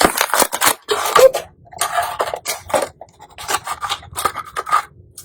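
Scissors crunch and crackle through a stiff plastic water bottle in a series of loud, close bursts, with irregular snipping and crinkling pauses between cuts.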